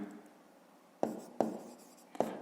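Short scratchy strokes of writing on a board during a fifth-grade maths lesson: three quick, separate bursts, fairly close, with quiet room tone between them and no talking.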